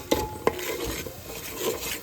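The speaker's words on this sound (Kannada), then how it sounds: "ಸೊ ಈ ರೀತಿ ಹಿಂಗೆ ಚಲೋ ಇದು ಫ್ರೈ ಮಾಡ್ಕೋಬೇಕು" Masala spices frying in a pan for egg biryani, stirred with a utensil that gives two sharp metal clinks against the pan over a faint sizzle, then a softer scrape near the end.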